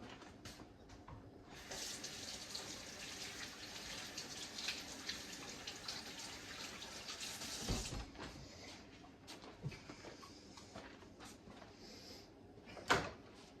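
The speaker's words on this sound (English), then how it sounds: "I'm gonna go ahead and wash my hands in just a minute" Tap water runs into a sink while hands are washed, a soft steady splash close by that stops partway through, followed by faint knocks and one sharper clunk.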